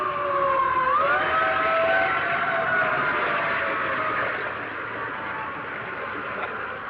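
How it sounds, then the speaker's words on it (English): A 1930s fire engine's wailing siren rises and sweeps in pitch, loud at first and slowly fading as it moves away, with no talking over it. "Hey, Fire engine!"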